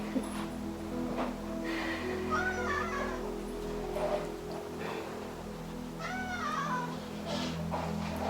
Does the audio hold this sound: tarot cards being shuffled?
no